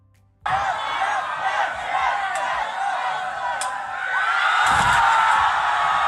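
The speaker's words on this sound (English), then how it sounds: "The crowd were on their feet for that." A wrestling crowd at a MyPW New Breed 2 show suddenly erupts into loud, sustained cheering and yelling that swells further near the end.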